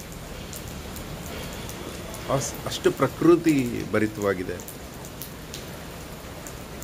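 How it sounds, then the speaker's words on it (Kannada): Rain falls steadily around a building with a garden and large trees, a soft continuous hiss throughout, with someone talking over it in the middle. "ಮಳೆ ಬರ್ತಾಯಿತ್ತು"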